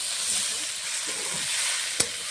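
Spice masala frying in a pan while cooking jackfruit with chana dal, a steady close sizzle throughout with faint stirring scrapes and one short sharp clink near the end.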